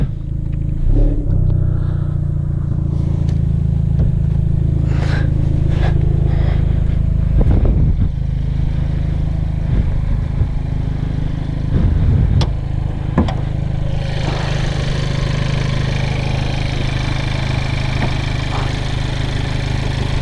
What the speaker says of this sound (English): It's a very noisy little motor.